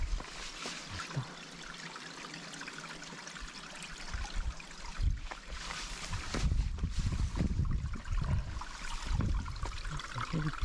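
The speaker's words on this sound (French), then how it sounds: "C'est un joli petit torrent." A small mountain stream on the East Coast Trail flows with a steady trickle and splash, fairly close, and gets louder and more turbulent toward the end.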